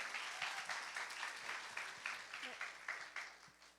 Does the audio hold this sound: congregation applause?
yes